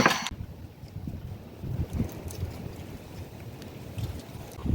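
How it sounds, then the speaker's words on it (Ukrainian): Strong spring wind gusts across a countryside garden plot, a rough buffeting rumble battering the microphone in uneven surges that swell and fade, with no voices. "а днів два-три такий вітер з ніг збиває"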